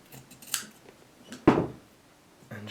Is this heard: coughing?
no